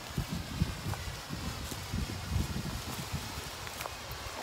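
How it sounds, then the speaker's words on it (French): Wind blows outdoors during a smoke-bomb test, a constant rough rumble and buffeting against the microphone with faint rustling and scattered gusts throughout. "C'est dommage qu'il y ait un peu trop de vent"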